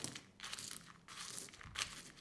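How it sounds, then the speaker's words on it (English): Dried chilies and Sichuan peppercorns being crushed into a coarse paste, a few close, crunchy grinding bursts separated by brief quieter gaps. "You can hear that crunch."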